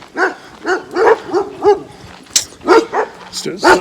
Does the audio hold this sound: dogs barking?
yes